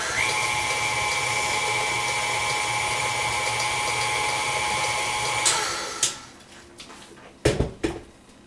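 Electric mixer blending an oatmeal protein bar mixture, a steady loud whirring drone that stops abruptly, followed by a few clanks and scrapes of utensils against the bowl.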